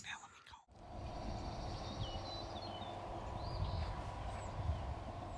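A hunter's turkey call during a spring turkey hunt: short, high, scratchy yelping notes come in a few bursts over steady outdoor background noise, with a brief dip near the start.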